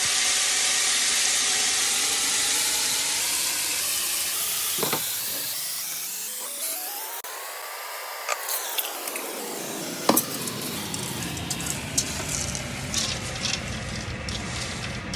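Chopped vegetables for a ragù sauce cook steadily in a pan, giving a continuous close hiss and simmering sizzle with occasional small pops and stirring clicks, while a swelling tonal whine rises and falls in the middle.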